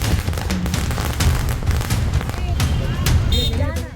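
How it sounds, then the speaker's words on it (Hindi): Strings of firecrackers burst on streets in Thane district, Maharashtra, during a celebration, a dense continuous crackle with sharp pops, heard loud and close alongside crowd noise. "सड़कों पर फूटती पटाखों की ये लड़ियां,"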